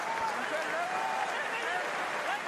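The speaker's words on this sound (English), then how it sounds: "Crowd willing them forward." A rugby sevens crowd at the Commonwealth Games, Sri Lanka against Zambia, urges the team toward the try line: a continuous broad roar of cheering and applause under a commentator's voice.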